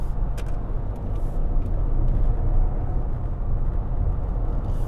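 A Toyota bZ4X prototype electric car speeds up on the road, giving a steady, loud low rumble of tyre and road noise with a faint whine and no voices.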